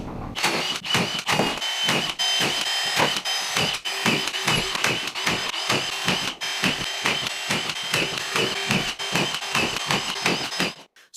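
A screw gun driving screws through drywall panels into a ceiling, a loud, close motor whir broken by rapid repeated pulses that runs continuously for about eleven seconds.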